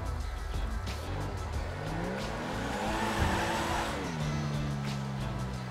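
Car racing at speed in GTA 5, engine roaring steadily throughout with tires squealing in a long skid near the middle, pitch sliding downward as the car slows and turns.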